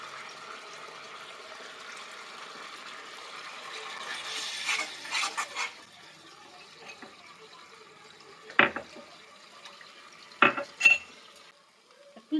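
Egg chili with water and cornflour being stirred in a pan, soft scraping and faint sizzling with a few sharper clinks of the utensil against the pan, quiet and close, with no talking.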